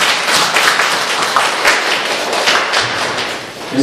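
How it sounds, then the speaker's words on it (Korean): A church congregation claps in thanks during a service, a loud, close, dense patter of hands that keeps going evenly for a few seconds, with some sharper individual claps standing out. "우리 하나님 앞에 우리 감사의 박수 올려드릴까요?"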